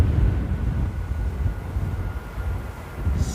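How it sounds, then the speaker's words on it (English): A Cargolux cargo plane lands fast at Amsterdam Airport in windy weather, giving a loud, steady, low rumbling roar that holds for the whole stretch without letting up. "Cargolux never reverses like that. That was a really fast landing."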